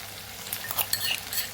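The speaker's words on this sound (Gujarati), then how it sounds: "આદુ મરચાં ને જે લસણની પેસ્ટ તૈયાર કરેલી એ આપણે અહીંયા ઉમેરી દેવાની છે એટલે મસ્ત એવું સતડાઈ જાય" Potatoes sizzle and fry in a pan with freshly added ginger, chili and garlic paste while being stirred, a steady close hiss with brief scraping bursts and no speech.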